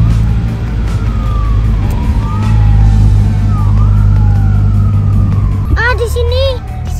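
A fire engine races past with its wailing siren sweeping up and down, loud and close over heavy road rumble, and a second siren tone joins near the end.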